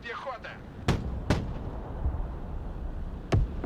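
Artillery fire in the war video game Broken Arrow comes as three sharp, booming blasts at irregular intervals over a low rumbling battlefield background.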